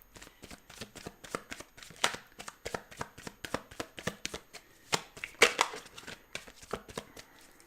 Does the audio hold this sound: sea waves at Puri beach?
no